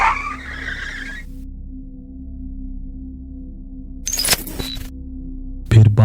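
A bus skids to a sudden halt on a road near the edge of a forest, with a brief burst of tire squeal and braking noise after a quiet engine idle, then a short jolt at the end.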